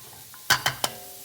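A utensil scrapes three quick times against a hot frying pan holding sole and spinach, each stroke a sharp close scrape, with a faint low sizzle underneath.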